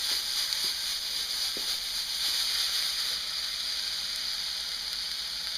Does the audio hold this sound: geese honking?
no